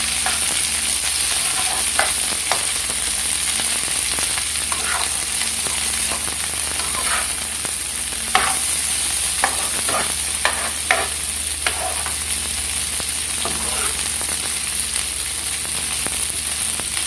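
Okra and bitter gourd fry in a pan while being mixed, a continuous sizzle broken by repeated clicks and scrapes of a spoon against the pan, close and steady with no voices.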